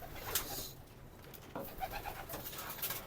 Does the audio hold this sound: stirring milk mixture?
no